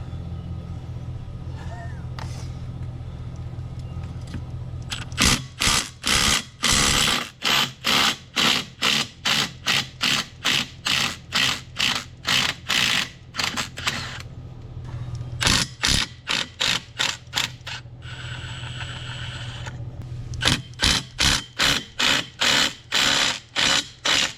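An impact wrench fitted with a 1 inch socket hammers in loud, close bursts of rapid rattling blows, several separate runs with pauses between them, while an engine idles steadily in the background.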